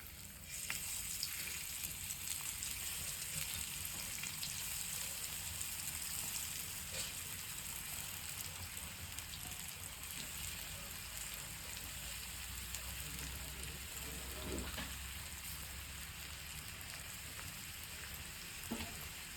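Flour-coated sweet potato slices sizzle steadily on a hot tawa over a gas flame, a continuous close crackling hiss with scattered sharper pops and no talking.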